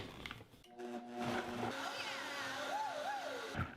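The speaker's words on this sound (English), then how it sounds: "And now you're gonna blend until smooth." Countertop blender whirring a rib marinade until smooth, a close, loud motor drone with shifting whine as the mixture churns, preceded by brief clatter.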